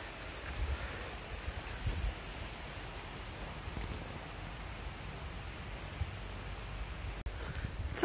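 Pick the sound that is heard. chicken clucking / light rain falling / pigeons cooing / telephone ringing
light rain falling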